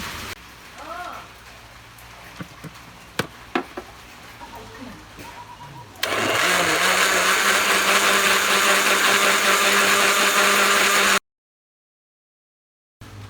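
An electric blender purées a bread pudding mixture, kicking in suddenly as a loud, steady, rushing whir that holds for several seconds and then cuts out abruptly. Quieter kitchen handling sounds come first.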